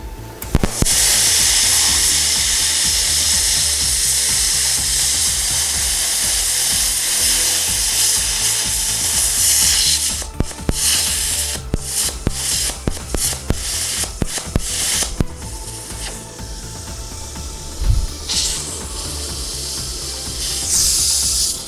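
A Hynade CUT40 110-volt plasma cutter slices aluminum, a loud continuous harsh hiss for about ten seconds, then broken into short bursts and stops with crackles and clanks.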